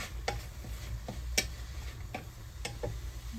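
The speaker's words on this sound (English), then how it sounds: "Stir those seasonings up a bit." A spoon scraping and tapping against a pot while seasonings are stirred for chicken and smoked sausage pilau, with light irregular clicks over a soft low simmer.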